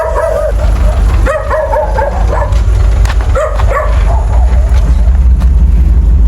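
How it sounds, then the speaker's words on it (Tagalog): Several dogs bark and yip close by at night in repeated, overlapping bursts over a low, steady rumble. "Puro aso na lang yun ang gising oh."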